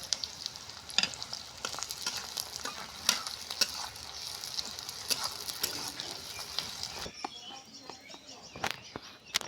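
Green chillies, chopped onion and whole garlic cloves frying in oil in a pan, a steady sizzle with sharp spatula scrapes and clacks at irregular intervals and faint birdsong in the background, the sizzle dropping away near the end.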